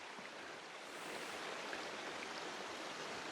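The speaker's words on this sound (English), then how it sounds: "you can only hear the water on this side" A small creek flows in a thick forest beside a remote lake, a faint, steady hiss of running water heard from a distance with no voices.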